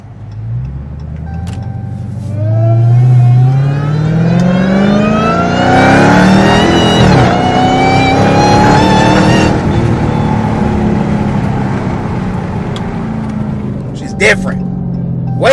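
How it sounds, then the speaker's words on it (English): A Dodge Charger Hellcat with a new exhaust revs hard and up close, its engine climbing in pitch through a long loud pull before settling back to a rumbling idle, with talk over it. "let's focus on this exhaust right now"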